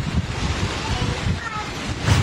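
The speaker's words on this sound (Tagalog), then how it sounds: "Ang hangin ng bagyo ramdam din sa Sarat, Ilocos Norte." Strong typhoon wind gusting in Sarat, Ilocos Norte, a constant roaring rush with rumbling microphone buffeting and uneven surges, loud and close, with no clear talk.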